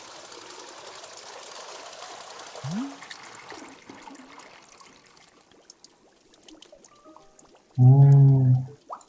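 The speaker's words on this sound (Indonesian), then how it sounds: "pull down on the rope to pour as much water as you like" Water pours from a rope-pulled tap in the video game Wanderstop, a loud gush of several seconds near the end after a quiet ambient stretch, with no talking.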